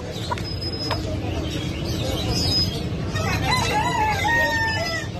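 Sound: Brahma rooster crowing

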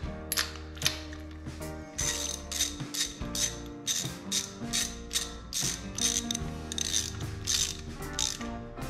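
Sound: ratchet tightening a spark plug on a Kawasaki KZ400

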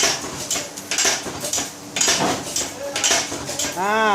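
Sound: stamped metal amulet coins being packed into a bag

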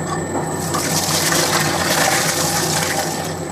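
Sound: pouring milk into cookie batter

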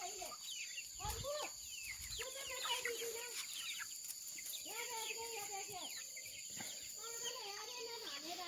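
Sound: chickens clucking on a farm

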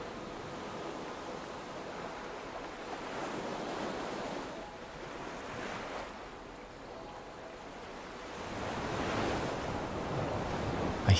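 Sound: ocean waves on a rocky coast

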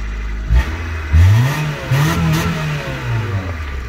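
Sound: Honda car engine starting and revving

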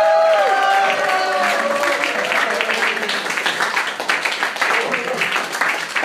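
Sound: audience applause for an orchestra

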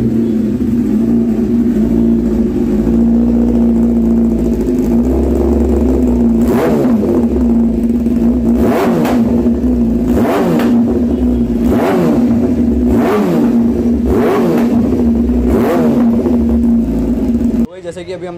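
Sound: sport motorcycle exhaust revving

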